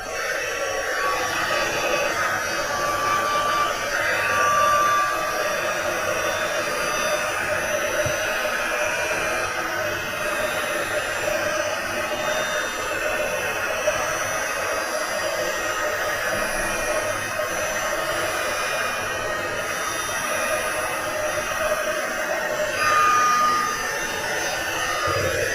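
An embossing heat tool blowing hot air to set white embossing powder on a card, a constant loud fan-driven whoosh and whine held steadily throughout with no speech.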